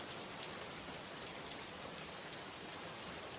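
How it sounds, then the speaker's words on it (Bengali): Steady rain pours down over flooded village fields in a Bengali cartoon, a dense, even hiss of drops that holds at constant strength throughout, with no voices. "সারা দিন একরকম বৃষ্টি হয়ে আসছে"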